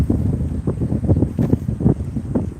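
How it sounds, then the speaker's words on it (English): Wind buffets the microphone outdoors, producing continuous low rumbling gusts and irregular thumps with no speech. "It's fucking wind. I swear to God. Come on, wind. Go ahead and blow."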